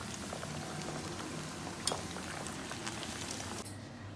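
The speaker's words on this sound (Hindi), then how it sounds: "ये देख लें, ये फ्राई हो रहे हैं।" Pieces of popcorn chicken sizzle and bubble in hot frying oil, a dense, constant crackling hiss at moderate loudness with a faint clink partway through.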